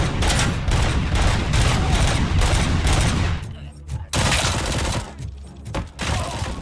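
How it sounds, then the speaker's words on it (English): Grenade launcher fire and gunfights in Robocop: Rogue City: heavy bursts of booming shots and rapid gunfire, loud and close, with short gaps and sharp blasts near the end. "Oh shit, grenade launcher."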